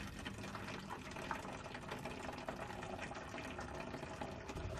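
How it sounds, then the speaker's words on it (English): Boiling water is poured through a funnel into a plastic bottle, giving a faint, steady trickling and gurgling of liquid that runs throughout without voices. "Take some boiling water and pour it into a plastic bottle using a funnel"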